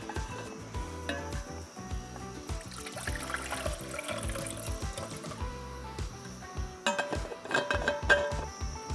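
Water is poured into a pot on a camp burner outdoors, with uneven splashing and trickling over clinks and handling noises, close and fairly quiet, with a brief louder burst near the end.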